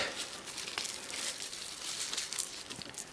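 A small paper packet holding glass bee pendants is opened and handled, giving close, soft crinkling and rustling in irregular bursts, with no talking.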